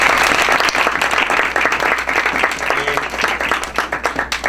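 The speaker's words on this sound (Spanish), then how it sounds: "Un aplauso para ti." An audience at a stand-up conference talk bursts into sustained applause, a dense steady wash of many hands clapping close and loud, with a few voices mixed in.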